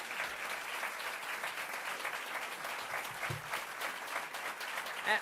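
An audience at a New York celebration with Governor Kathy Hochul and Secretary Deb Haaland applauds local and county officials, continuous fairly soft clapping from a crowd heard at some distance.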